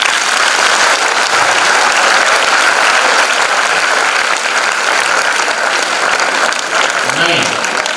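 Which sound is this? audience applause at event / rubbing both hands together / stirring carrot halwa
audience applause at event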